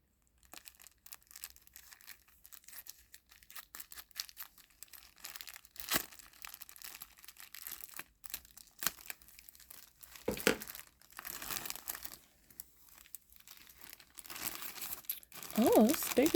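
Paper wrapping around a colorful Dooney & Bourke accessory charm crinkles and tears in quiet, irregular bursts, growing louder toward the end, with a voice speaking at times.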